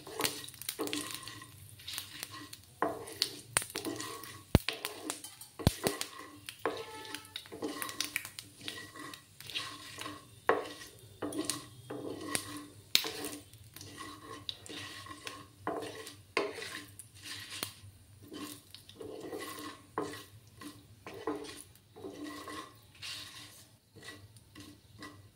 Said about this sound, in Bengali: দিয়ে ভালো করে নেড়ে নেবো ওটাকে। ভালো করে ফ্রাই করে নিতে হবে।